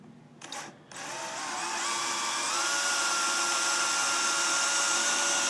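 Power drill boring through material during a bracket installation: a brief start, then a steady, loud, high-pitched whine that holds for several seconds with no talking.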